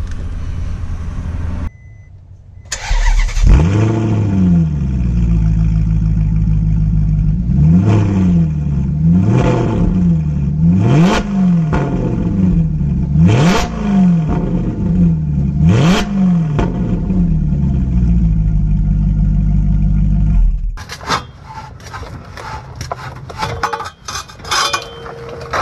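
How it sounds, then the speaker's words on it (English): A Maserati GranTurismo with its resonator X-pipe removed revs repeatedly from idle, loud rising and falling exhaust blips over a steady rumble, ending with a clatter of handling noise. "Wonder what a car sounds like this."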